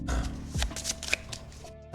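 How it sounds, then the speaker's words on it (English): A rewards deck for the Caper Cards: Bells Hells card game is shuffled in a short, close burst of papery riffling and slapping, with a soft thump near the end. "we'll shuffle the deck"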